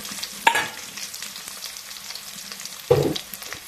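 Soft frying hiss with two louder stirring scrapes as chopped onions are moved around in hot oil.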